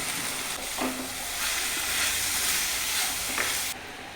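Boiled potatoes stir-fry in hot oil for Kerala-style potato mezhukkupuratti, with a steady close sizzle and hiss and a few light stirring scrapes, ending abruptly.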